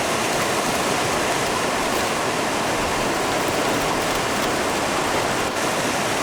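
River rapids and a waterfall on a salmon river, a dense, continuous roar of rushing water at steady loudness with no voices.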